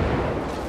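Shells pound a warship in the naval battle game World of Warships, a dense, continuous roar of loud, overlapping impacts and explosions with no pauses.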